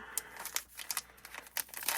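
Plastic packaging holding pens crinkles and tears in quick irregular bursts, close and fairly loud, with no talk.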